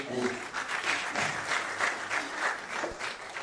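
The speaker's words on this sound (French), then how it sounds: "je vous prie de l'applaudir" Audience applause fills a lecture hall at a diabetes league conference in Rabat, welcoming a young pianist; steady dense clapping from a crowd, fairly close, with faint voices mixed in.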